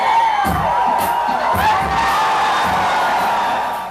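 Loud nightclub crowd cheering and whooping during a late-night performance in New York City, a dense continuous roar with bursts of shouts over music.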